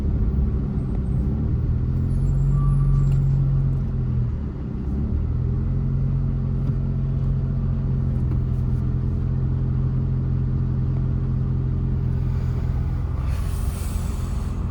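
Suzuki Alto driving slowly through Bangalore traffic, a steady low engine rumble heard from inside the cabin with gentle changes in revs and faint road noise around it.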